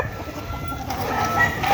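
White Kelso roosters clucking, short soft calls over a steady outdoor murmur with some faint background noise.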